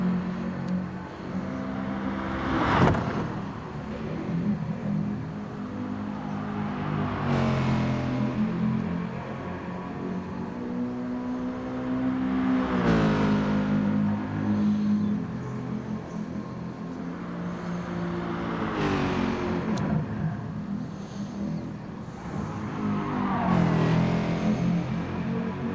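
Race car engines in Gran Turismo, including a Mercedes and a Porsche, roar and rev close by with several rising whooshes as cars pass in turn over a steady engine drone.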